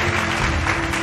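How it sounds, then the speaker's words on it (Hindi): Dense, steady applause from an event audience welcoming the chief guest, Tamradhwaj Sahu, heard as a continuous wash of many hands clapping at an even loudness throughout. "जोरदार तालियों के साथ स्वागत कीजिए हमारे मुख्य अतिथि माननीय श्री ताम्रध्वज साहू जी का"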